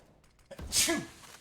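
A commentator sneezes once during a Counter-Strike match broadcast on Mirage, a sharp, sudden burst following a quick intake of breath.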